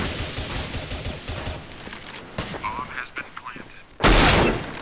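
Gunfire crackles during a competitive CS:GO match: scattered shots and bursts, then a sudden loud blast near the end. Players talk over the action.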